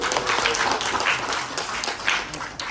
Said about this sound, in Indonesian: Mohon berikan aplaus.